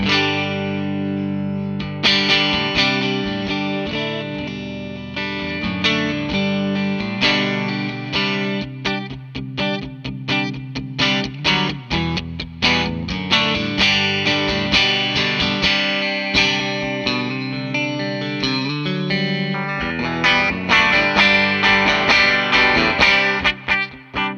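A 2013 Fender Telecaster electric guitar played through overdrive, with chords and single notes strummed and picked in a steady rhythm, loud and upfront, no voices.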